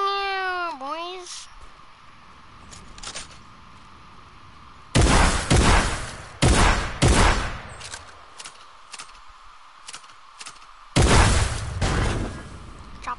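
Grenade launcher explosions in the video game Fortnite: several loud, heavy booming blasts spaced a second or two apart, with bursts of gunfire-like cracks between them and faint game tones early on.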